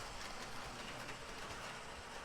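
A Lionel toy train running on a home layout, a steady soft rumble and faint track clatter continuing throughout, fairly quiet and with no voices.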